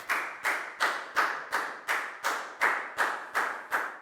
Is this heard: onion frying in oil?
no